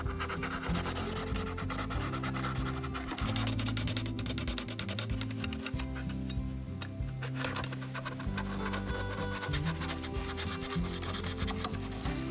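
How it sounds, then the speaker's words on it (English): Foam on a paludarium back wall is carved down and smoothed, giving continuous rough scraping and rasping strokes in a fast, busy rhythm, close and fairly loud, with no voices. "I'm going to be carving the foam down on the back wall just to make it look more realistic and not as lumpy"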